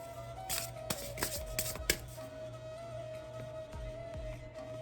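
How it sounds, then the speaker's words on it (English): Astrological cards being shuffled by hand, several quick riffling bursts close up, then quieter handling and light taps over a faint steady hum. "Let's pull a few more astrological cards and see where we are heading to"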